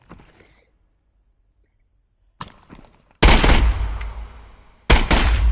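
Two loud bursts of automatic gunfire from 5.56x45 M995 rounds in the game Contractors Showdown, the first longer and trailing off, the second starting abruptly near the end, after faint clicks and near silence.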